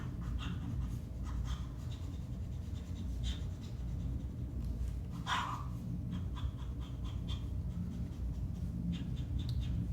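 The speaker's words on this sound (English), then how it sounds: "Try some fast writing." Fast writing with a Pilot Silvern Tsumugi sterling silver fountain pen gives soft, scratchy nib strokes in quick bursts, faint against a low steady background rumble.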